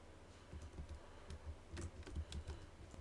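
Soft, close computer keyboard typing, a quick uneven run of light key clicks for about three seconds, quiet with no voices.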